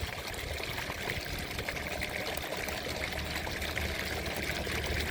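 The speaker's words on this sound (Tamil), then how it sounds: "தண்ணி ஃப்ளோ நல்லா வருது ரெண்டே பேனலுக்கு நல்ல ப்ரெஷர் வந்துட்டுருக்கு" Water pouring steadily from a BLDC submersible pump outlet running on two solar panels, a continuous broadband rush and splash that stays loud and even throughout with no talk.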